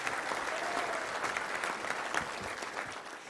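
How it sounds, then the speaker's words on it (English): An audience at a Touchdown Club luncheon claps in a steady, dense burst of applause that holds at an even level for a few seconds before easing slightly. "Round of applause for him for being quiet up there."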